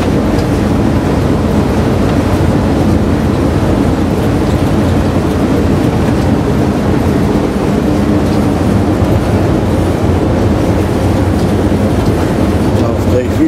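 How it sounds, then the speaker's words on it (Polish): An electric locomotive-hauled train coasts downhill without drawing power, giving a continuous low rumble and rolling wagon noise that stays steady and loud throughout, with no talk over it. "w tej chwili lokomotywa nie pobiera prądu, no własnym rozpędem sobie ładnie z góreczki leci"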